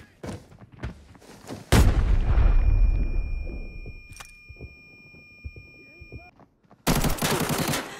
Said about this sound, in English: Exchanging fire with the target!